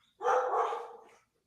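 A neighbor's dogs let out a single drawn-out bark of about one second, fairly faint and distant, with quiet before and after and no talking.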